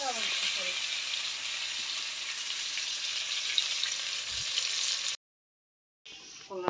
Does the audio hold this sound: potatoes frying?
yes